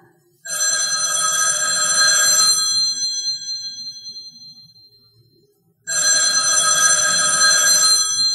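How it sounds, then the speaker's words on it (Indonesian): An old-style telephone bell rings loudly in two long bursts separated by a pause, in a staged radio drama setting, with no voices over it. "Telepon berbunyi."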